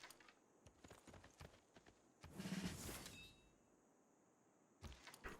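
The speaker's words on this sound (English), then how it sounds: "Horses." Horse hooves clopping in the strategy game Civilization VI, a light rhythmic patter of game sound effects with a louder burst in the middle, no speech.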